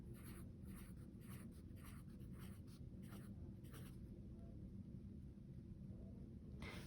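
A marker draws circles on a surface, giving a run of close scratchy strokes in short repeated bursts over a steady low background hum, with no talking.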